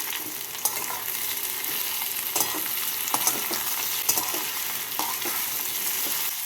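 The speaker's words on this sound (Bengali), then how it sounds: "টমেটো কুচি দিয়ে আলুর সাথে নাড়াচাড়া করে নিচ্ছি" Chopped tomato stirred with potatoes in a frying pan for a Bengali potato and botboti bean curry: a steady, close sizzle broken by repeated scraping strokes of the spatula, with no talking.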